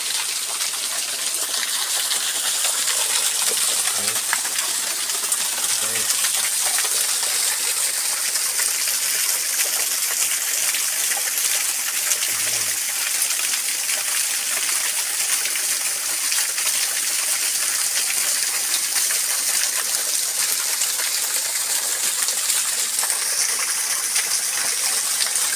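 Water rushing and gushing steadily inside a large rock formation, a continuous loud, broadband wash with no pauses and no voices.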